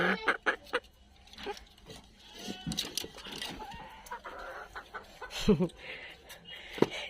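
Backyard hens cluck in short, irregular bursts close by, with scattered scratching and handling noises between calls and a few louder squawks toward the end.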